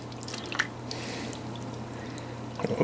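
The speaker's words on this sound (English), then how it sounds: "And then you'll take your chicken in that braising sauce. And you will pour all this on there." Braising sauce is poured over chicken thighs, a soft drip and trickle of liquid running steadily under a low kitchen hum, with a few louder splashes near the end.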